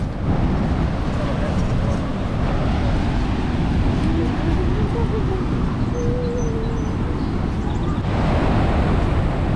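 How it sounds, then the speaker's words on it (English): Roaring waterfall at Niagara Falls beside the Cave of the Winds walkway, a loud, unbroken wash of rushing water that fills the whole scene. "it brings you right to the waterfall"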